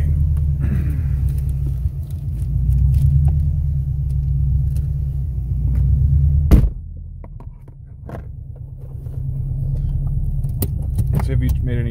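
A 1991 Subaru Legacy Turbo drives on the road, its engine rumbling steadily up close with a brief clunk partway through, while people talk inside the cabin.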